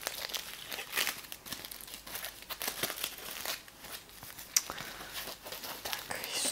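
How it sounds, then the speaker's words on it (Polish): Plastic foil wrapping crinkles and crumples steadily at close range while a parcel is unpacked, with irregular rustling bursts and soft crackles and no talking. "Tutaj jest jeszcze jedna folia"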